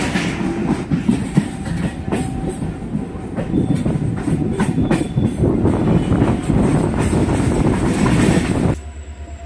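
A passenger train running from Santragachi to Shalimar rumbles loudly and continuously with clattering wheels on the track, heard from on board, with the noise dropping abruptly near the end.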